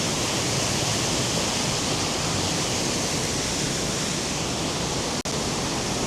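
Aira Force waterfall in England pours in a steady, dense roar of falling water, loud and close, unbroken for the whole stretch with no voices.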